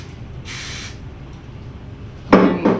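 Hairspray sprayed onto a pinned updo for a prom or wedding hairstyle: one steady aerosol hiss lasting about half a second, then a louder, brief knock or handling sound near the end.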